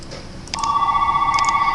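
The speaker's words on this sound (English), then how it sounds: "Why is my phone ringing?" A telephone rings with a steady electronic trill that starts partway through and continues unbroken to the end, loud and close over a faint background hum.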